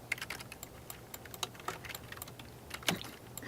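Rapid, irregular clicking of keys on a computer keyboard, close and moderately quiet, with uneven bursts and short pauses and a faint steady hum underneath.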